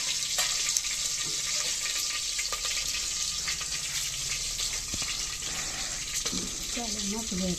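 Cut brinjals and tomatoes are washed in a vessel of water, with a steady, close rush of flowing and splashing water throughout and a voice briefly heard near the end.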